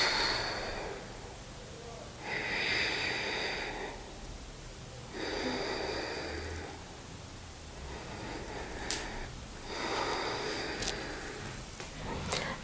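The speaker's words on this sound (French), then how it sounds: "Profonde respiration." Deep, slow breathing during a hip flexibility and mobility stretching routine, with long audible breaths in and out in even cycles a few seconds apart, fairly close and soft against a quiet background.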